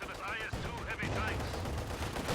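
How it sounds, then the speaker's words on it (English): Infantry gunfire in Company of Heroes 2, bursts of rifle and machine-gun fire crackling continuously in a dense, sustained exchange, heard at mid distance with a faint hint of voice underneath. "All 4 men are firing."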